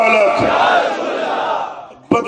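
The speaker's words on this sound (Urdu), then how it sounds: "یہ مل کر ذرا نعرہ لگائیں، نعرہ رسالت" At a religious sermon gathering, a crowd shouts a nara slogan back in unison in response to the preacher, a loud, brief collective cry that trails off, and then a single voice begins again.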